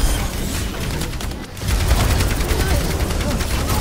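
Video game gunfire rattles in dense, continuous bursts with heavy low-end booms, loud and close, with a short lull partway through.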